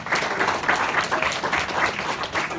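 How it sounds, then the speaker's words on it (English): Audience applause at a network marketing training event, a dense continuous burst of many hands clapping, fairly loud and steady throughout. "Give that dude a round of applause"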